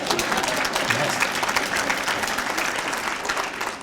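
Dense, continuous audience applause at a lake-management symposium lecture, many hands clapping evenly and fairly loud, tapering slightly at the end.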